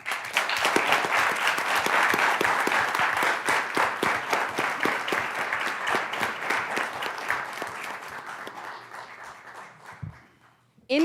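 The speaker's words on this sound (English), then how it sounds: "Let's give them both a round of applause." Sustained applause from a crowd at a school board meeting, dense steady clapping that gradually thins and fades out near the end.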